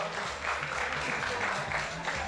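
Audience applause at an award ceremony for a Nigerian polytechnic staff association's capacity-building workshop, a steady dense wash of clapping throughout the short stretch.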